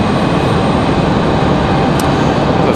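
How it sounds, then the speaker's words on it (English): Embraer E175 jet engines spooling up at Raleigh-Durham International Airport, a loud, dense, unbroken roar with a faint high whine, heard close throughout. "Got another E175 just below us starting up."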